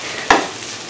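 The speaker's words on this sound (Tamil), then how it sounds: "எண்ணெயில் வந்து நல்லா மிளகாய் தூளை வதக்கியாச்சு" Chili powder being stirred into hot oil in a home kitchen pan for a Sunday non-veg dish, giving a short loud scrape-and-sizzle burst near the start, then a steady soft frying hiss, no voices.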